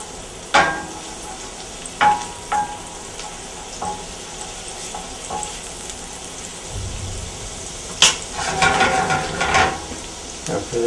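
Garlic and shallots frying in a pan, starting with scattered soft taps and a faint hiss, then a louder, denser crackling sizzle toward the end.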